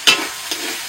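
Chopped tomato drops into a pan of frying pointed gourd and shrimp, with a sharp hiss and clatter of the spoon, a second quick scrape, then a low steady sizzle close by.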